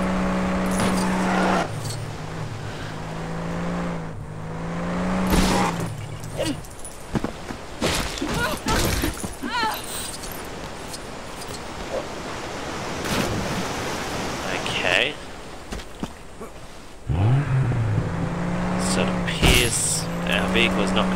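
A vehicle drives in Lego Jurassic World on Xbox One, its engine droning and revving, with thuds and crashes as it smashes through obstacles. Game music and effects play alongside, and a voice talks over parts of it.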